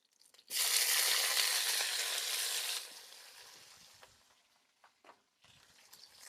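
Chopped tomatoes hit hot oil with onions in a pan for a spicy fish curry, bursting into a loud close sizzle that gradually fades to quieter crackling and a few stirring sounds.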